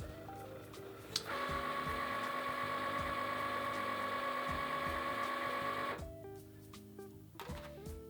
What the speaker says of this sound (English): Go ahead and fire up your Cricut. Press the on button.